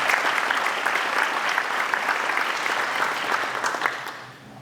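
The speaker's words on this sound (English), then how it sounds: "You guys can clap." Dense, steady applause from a seated audience at a fire recruit class graduation held at a Department of Fire Services, sustained for several seconds before thinning slightly at the end.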